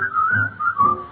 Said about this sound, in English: pucker up your lips and keep a whistling all the while.